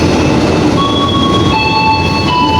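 A train with a CC 206 locomotive rumbles steadily close by with a broad, continuous roar, and high-pitched wheel squeals ring out over the noise.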